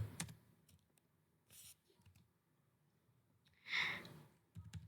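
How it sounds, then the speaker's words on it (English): Computer keyboard typing at a workstation while configuring a network router's DHCP client for MAC address filtering: scattered quiet key clicks with a louder burst of keystrokes near the end, no voices. "We type again"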